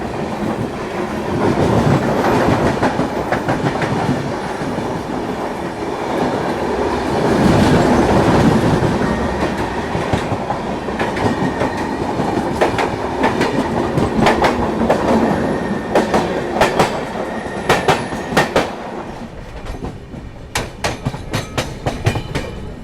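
The 11040 Maharashtra Express rolls on after a station halt, its steady rail rumble broken by rhythmic clickety-clack wheel beats that grow sharper and more frequent toward the end, loud and close with no talk.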